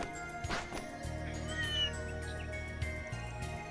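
A cat in the video game Trails Through Daybreak lets out a couple of short, clear meows over a low, steady background hum and faint game music.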